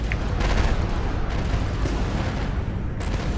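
Dense rumbling blasts and crackling impacts from missile strikes in the space combat game Fractured Space, a continuous loud barrage with a few sharp high pings, no talking.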